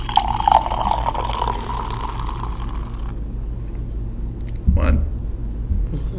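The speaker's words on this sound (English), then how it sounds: "put your volume up. It is time for the pour." Moscato wine pours into a glass: a hissing, splashing stream for the first few seconds, then a quieter fizz with a short louder burst near the end, as faint voices murmur in the background.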